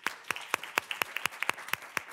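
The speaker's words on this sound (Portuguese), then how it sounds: "Uma salva de palmas." A small audience claps at a conference session, sparse and fairly faint, with separate hand claps falling in an even rhythm of about four per second across a short burst.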